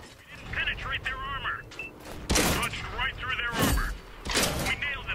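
A tank gun in World of Tanks fires in heavy booming blasts, one near the middle and another toward the end, amid other game sounds. Voices talk over the action.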